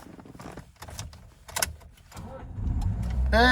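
A manual-transmission car's engine turns over and settles into a steady low idle after stalling, with clicks and rustling inside the cabin before it builds; faint voices are present.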